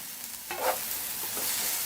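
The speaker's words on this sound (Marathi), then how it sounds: "टोमॅटो थोडासा मऊ होईपर्यंत मसाला परत परतून घेऊ" Tomato and onion masala sautéing in a pan, a soft steady sizzle with a brief scraping stir of a spoon partway through, fairly quiet and close with no voices.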